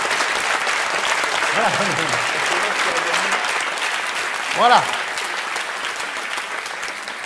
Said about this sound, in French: ça mérite encore des applaudissements